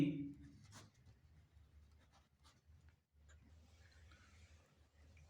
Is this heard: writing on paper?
yes